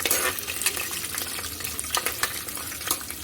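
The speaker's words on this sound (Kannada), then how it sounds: "ನಾನು ಇವಾಗ ಕರಿಬೇವಿನ ಸೊಪ್ಪು ಹಾಕ್ತಾ ಇದ್ದೀನಿ" Curry leaves frying in hot oil for aloo bath give a loud, continuous crackling sizzle with rapid spitting pops and no speech.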